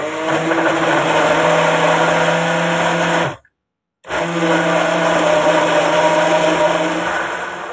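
A kitchen blender grinds a cake mixture with a loud, steady motor whine, cutting off briefly for a moment of silence before starting up again and running on.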